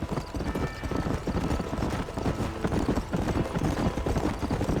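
A horse gallops in Red Dead Redemption, its hooves drumming a steady, fast clip-clop at close range that carries on throughout without pause.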